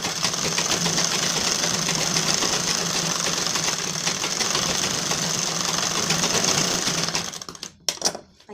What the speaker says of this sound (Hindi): ब्लाउज पीस को थोड़ा दिखाते हुए हमें यहाँ पास ऊपर से थोड़ी सिलाई देनी है।